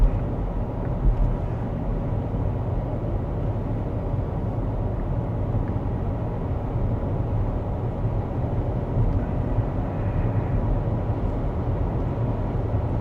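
A Rivian R2 electric car cruising at 72 mph in conserve mode on rear-motor drive gives a steady, dense low road and wind rumble that holds even and unbroken throughout, with no talk over it.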